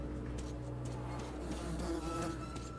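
Flies buzz in the video game Metro 2033 Redux, a dense insect drone that stays steady and close over a low background hum, with no speech.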